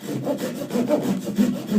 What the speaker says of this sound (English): After I get done with the sawing part